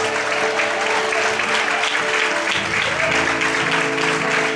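A church congregation at an evening worship service applauds steadily and forcefully, a dense, continuous wash of clapping that runs throughout at an even level.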